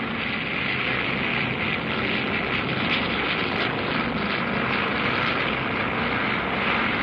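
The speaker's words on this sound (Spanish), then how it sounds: "Los aviones tomaban la velocidad que les facilitaba el despegue." World War II Italian propeller aircraft engines roar at full power in a steady, loud drone that holds without pause, as if planes are taking off.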